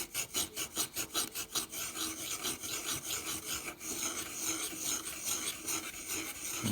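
Stiff beard-trimmer brush bristles scrub across an old Napoleon III 5-centime coin in steady rapid strokes, a close raspy scratching that speeds into a dense continuous rub.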